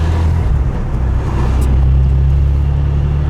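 A bright yellow Renault Clio V6 on KW V3 suspension drives along with a loud, steady low engine rumble heard from inside the car, without speech.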